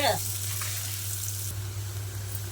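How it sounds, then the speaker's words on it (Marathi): Chopped onion frying in a pan for a wheat-flour noodle dish, a steady close sizzle running throughout beneath a constant low hum, with a brief scrape near the start. "आता कांदा भाजायला लागलाय"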